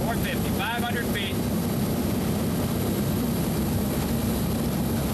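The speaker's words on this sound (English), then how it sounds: "demonstrating the P-3's high degree of maneuverability at high airspeed" A Lockheed P-3 aircraft makes a high-speed, low-altitude maneuvering pass at the 1987 Moffett airshow, a loud continuous engine roar filling the whole stretch.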